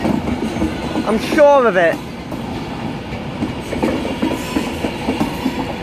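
An Alstom Pendolino passes at London Euston on the West Coast Main Line, a steady rolling rumble with a brief high whistling squeal early on. Someone speaks briefly over the train noise.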